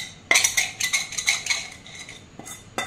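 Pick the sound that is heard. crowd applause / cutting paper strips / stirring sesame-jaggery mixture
stirring sesame-jaggery mixture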